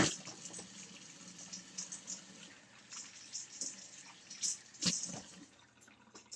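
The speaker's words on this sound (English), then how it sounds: "let me wash my hands" Hands being washed under a running kitchen tap before handling a kombucha SCOBY: a soft, steady water flow with scattered splashes and a few sharper drips. It is quiet and close, with no talking.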